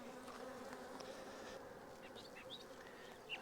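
Carniolan honey bees buzz steadily in an open hive box of a split, a close, continuous droning hum with a few louder passes of individual bees near the end.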